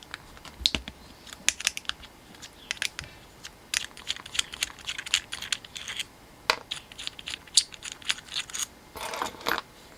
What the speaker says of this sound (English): Just going to undo these nuts.